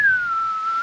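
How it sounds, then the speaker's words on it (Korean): A single person whistles one sustained, steady tone that dips slightly and rises again at the end, close and clear with nothing else around it. "방금 내가 휘파람 불었잖아."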